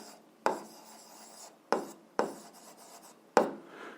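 An algebra equation is written by hand in a quiet room: four distinct scratchy strokes, each starting with a sharp tap and trailing off in a short rasp, spaced irregularly over a near-silent background.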